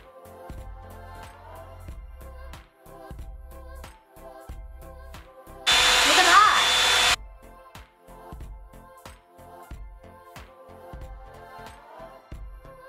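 A Revlon One Step hair dryer and styler blows in a single loud, steady whoosh lasting about a second and a half, standing out against otherwise quiet background sounds.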